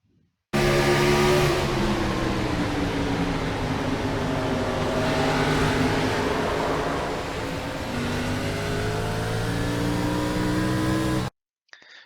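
Onboard race car engine at Richmond in the iRacing sim, a loud steady drone with rising and falling harmonic pitch as the car accelerates and lifts, continuous for about eleven seconds before cutting off.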